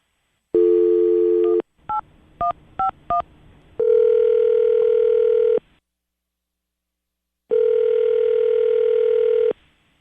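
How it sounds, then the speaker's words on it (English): Phone line tones: a steady dial tone, a quick series of keypad beeps, then two long ringback tones with a pause between them. "while the phone rings"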